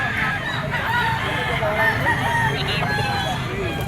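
F1 White Kelso Firebird gamefowl rooster crowing close by, a drawn-out rising and falling call with clucks around it, while men chat in the background.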